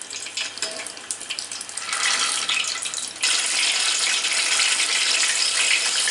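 Peanuts fry in hot oil on medium heat, a steady, loud sizzling hiss that swells partway through and holds, with no talk over it.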